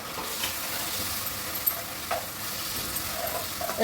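Frozen carrots and green chillies stir-fry in a hot pan, giving a soft continuous sizzle with occasional faint scrapes of stirring, low and steady with no voices.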